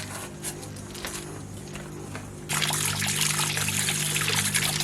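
Tap water runs while a kalbaush fish is washed, a steady close trickle that suddenly grows louder and fuller halfway through as the flow increases or splashes over the fish.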